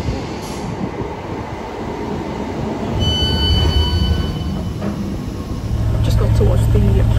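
A Class 769 bi-mode train runs between Wigan North Western and Wigan Wallgate, heard from inside the carriage. A steady, loud rumble carries through, with a faint tone joining partway through and the noise building toward the end.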